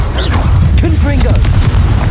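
Confringo blasting spell explosion in the video game Hogwarts Legacy, a low rolling boom and rumble throughout, loud and close, with a voice calling out over it.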